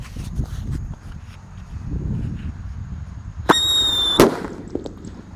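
Two sharp firecracker bangs from a Happy Power 3 firework go off a moment apart, the second one louder, with a crackle and ringing squeal between them over outdoor background noise.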